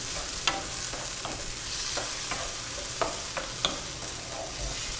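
Pimento and little tomatoes cooking in a pan at the start of a curry, giving a steady soft sizzle with occasional light scrapes and taps of a spoon, close and fairly quiet, with no voices.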